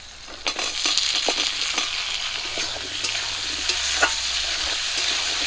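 Potatoes frying with chopped onions and green chillies in a pan, a continuous close sizzle broken by repeated scraping and clattering stirs throughout, with no voices.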